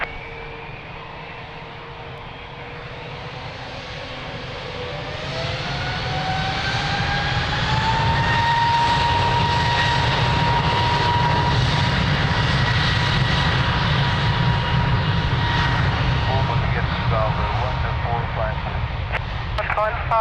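A fixed-wing aircraft taking off from runway 02 at Lisbon Airport, its engine roar swelling from moderate to loud and holding steady, with a rising whine, while radio voices talk faintly underneath.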